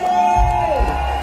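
A festival crowd on a reggae cruise cheers and whoops loudly over sustained music tones and thumping bass, a dense, continuous roar throughout.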